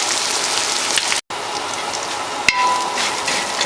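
Onion and sesame seeds fry in a pan with a steady, dense sizzle like close rain, broken once by a short silent gap and a light tap of a utensil.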